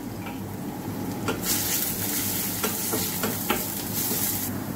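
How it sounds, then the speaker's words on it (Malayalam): Garlic, curry leaves and green chillies sautéing in oil in a pan give a steady sizzle, broken by several scraping stirs and clinks of a spatula against the pan. "അതിലേക്ക് കുറച്ച് കറിവേപ്പിലയും പച്ചമുളകും കൂടിയിട്ട് നമുക്ക് നന്നായി വഴറ്റിയെടുക്കാം"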